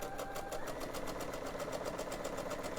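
A sewing machine stitches through layers of gingham quilt in a fast, even run of needle strokes. The motor gives a close, continuous whirring hum with a quick mechanical pulse, and no one speaks.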